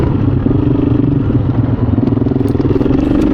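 A GAS GAS EC350f enduro motorcycle rides hard on a dirt practice track at Swaffham, its loud engine droning continuously up close, with rattling and clattering over the terrain.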